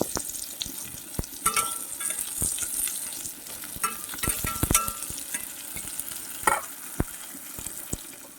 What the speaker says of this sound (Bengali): এদিকে পোস্ত দিয়ে আর সর্ষে দিয়ে আমি ঢ্যাঁড়সটাকে রান্না করছিলাম